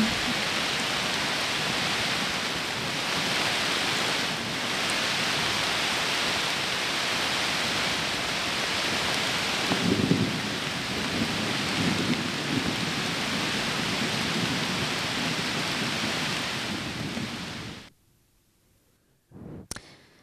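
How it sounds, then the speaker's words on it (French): Small hail falling with heavy rain during a thunderstorm, a dense, steady hiss of drops hitting surfaces that persists for most of the clip, with a low rumble midway, then cuts out abruptly near the end. "Donc là, la petite grêle qu'on a eue,"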